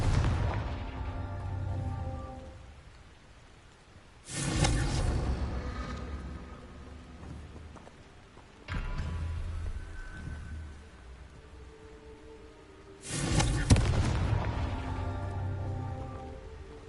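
Confringo fire spell blasts from the Hogwarts Legacy video game: three loud, broadband explosive bursts a few seconds apart, each with a booming low end and crackling tail, over a steady low rumbling backdrop.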